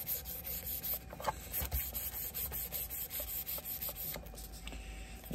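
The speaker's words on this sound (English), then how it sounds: "we're going to start working on it with some sandpaper now" Sandpaper rubbed by hand over a Schrade Bear Hunter LB-5 knife crusted with buildup and gunk, steady close rhythmic scratching strokes with a few faint knocks, no talking.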